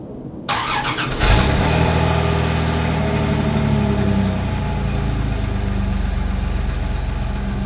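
A truck's engine cold-starts with a brief cranking burst, then catches and settles into a loud, steady, rumbling idle close by with no talking.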